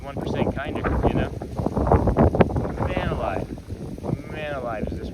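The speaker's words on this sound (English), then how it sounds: "Man alive, is this windy." Strong wind buffets a microphone on an outdoor morning walk at Magic Kingdom, Disney World, as gusty low rumbling under someone talking close by.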